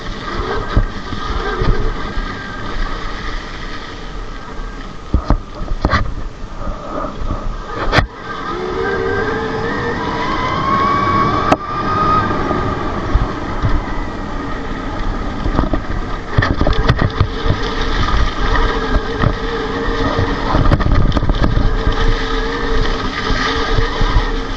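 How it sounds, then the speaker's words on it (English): A BRZ Neon Thunder Pro 72V electric motorbike spins its tyres dry, a rising and falling motor whine with tyre rush and intermittent sharp knocks, fairly loud and close, with no voices. "I'm just going to go and give this a blast, get these tyres dried off."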